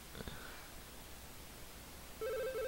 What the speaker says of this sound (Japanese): 電話だ。 本部からの緊急回線です。